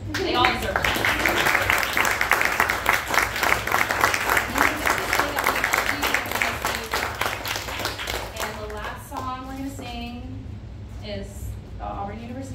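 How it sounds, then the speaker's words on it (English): Audience at a spring concert applauds loudly and steadily for about nine seconds, the clapping thinning toward the end as a voice speaks over it. "They all deserve applause."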